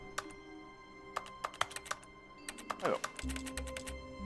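Keyboard keys clatter in The Stanley Parable office, a series of sharp, irregular taps in quick bursts, close and clear, with a brief spoken exclamation partway through.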